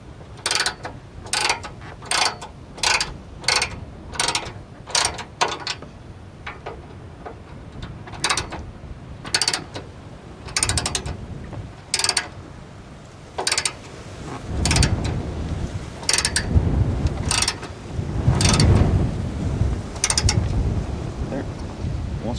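Ratchet wrench tightening the bolts of a prerunner-style bumper bar on a Ford Bronco Badlands, heard as bursts of rapid clicking strokes, close and fairly loud, with heavier rumbling handling noise and wind toward the end.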